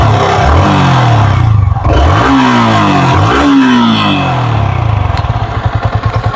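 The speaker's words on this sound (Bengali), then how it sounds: "বাইকটা কিন্তু স্টার্ট অবস্থায় আছে" A Yamaha R15 V3 motorcycle engine running close by, loud and throaty, with a couple of rising revs and then a rapid, pulsing idle.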